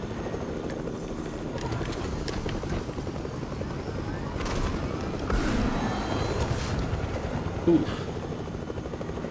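A helicopter in the video game Fortnite gives a loud, continuous rotor thrum and engine drone throughout, with a player's brief voice exclamation and a few scattered game sounds over it.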